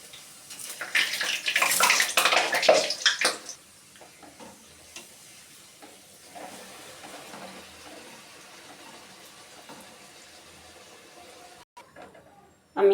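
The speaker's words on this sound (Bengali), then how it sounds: "আমি কড়াইতে তেল বসিয়ে দিয়েছি। এবার আমি সবগুলো এরকম ভেজে নেব।" Dal puri fries in hot oil in a wok, a loud crackling sizzle bursting at first, then settling into a quieter, steady bubbling hiss, with a clunk of utensils near the end.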